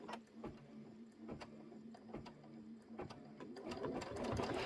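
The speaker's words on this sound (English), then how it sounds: "it's going to stitch the cream base placement line. So go ahead and just let it stitch again." An embroidery machine stitches a cream base placement line, its needle thumping in a steady rapid rhythm with a mechanical hum, close and alone.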